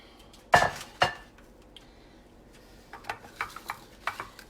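Biscuits coated in brown sugar dropped into a pan, landing as two sharp, close thuds, followed after a pause by a string of softer knocks and scrapes while they are tossed, with no voices.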